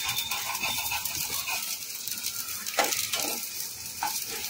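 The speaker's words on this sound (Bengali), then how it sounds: "এখন লাল লাল করে সবগুলো ভাজবো" Aloo tikki fry in a pan with very little oil, giving a steady, soft sizzle with occasional scraping and light utensil taps as the patties are turned.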